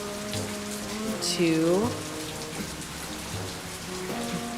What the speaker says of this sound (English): Sounds like it's raining inside the house.